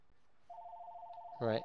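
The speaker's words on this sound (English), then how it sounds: "my phone's starting to ring" A telephone rings nearby with a thin, steady warbling electronic tone lasting about a second before a voice cuts in over it.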